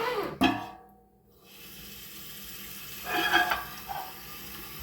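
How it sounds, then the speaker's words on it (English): Water running from a tap into a large pot being filled for water bath canning, a steady hiss and splash with a brief clatter at the start, close and moderately loud. "I'm going to get that other pot filling with water as well."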